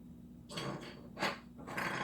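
A cat lets out a few harsh, breathy yowls in close succession, loud and close by, with no talking.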